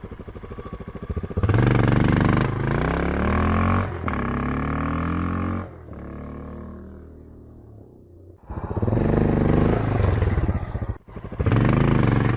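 A Honda XR650L dirt bike with a 13 tooth sprocket launches hard, its single-cylinder engine roaring up through rising revs, easing off with a falling drone, then surging loudly again nearby.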